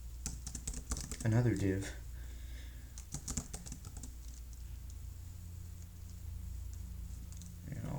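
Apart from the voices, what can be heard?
typing on a computer keyboard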